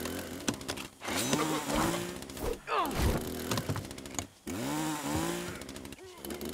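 A chainsaw revs and buzzes loudly in close, bursts of rising and falling engine whine during a fight in the video game The Culling, with brief gaps and a few thunks.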